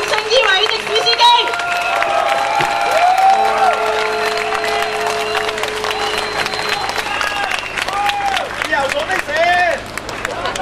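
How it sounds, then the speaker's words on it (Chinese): Audience applause for a taxi driver on a Hong Kong talk show, steady clapping and crowd noise lasting throughout, mixed with bright tonal sound effects and murmured voices. "为你掌声依位的士司机"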